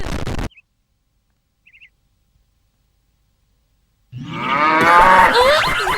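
A cow gives one loud, close, drawn-out moo near the end, following a short noise burst and near silence.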